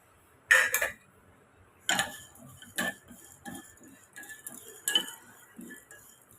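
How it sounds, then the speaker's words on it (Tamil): A metal spatula clinks and scrapes against a pan while pepper, cumin, fennel and curry leaves dry roast, in a series of short, bright, irregular taps with quiet gaps between them. "இப்போ இதில் நம்ம மிளகு, ஜீரகம், சோம்பு, கருவேப்பிலை எடுத்துருக்கேன். இப்போ இதை நம்ம ட்ரை ரோஸ்ட் பண்ணி எடுத்துக்கோங்க."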